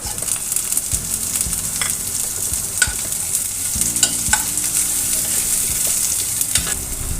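Chopped onion and garlic fry in a pan with a loud, continuous sizzle up close, broken by frequent spatula scrapes and knocks against the metal as the pieces are stirred.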